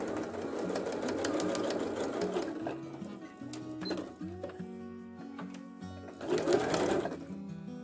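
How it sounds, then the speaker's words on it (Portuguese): Sewing machine stitching a fabric strap, running in close, steady mechanical bursts with pauses and restarts, its motor humming under the rapid needle rhythm. "Vou costurar somente esse lado para facilitar para desvirar."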